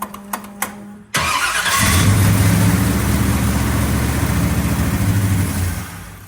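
A struggling car engine is cranked with a few short clicks, then catches and settles into a loud, steady, rough idle that fades slightly at the end.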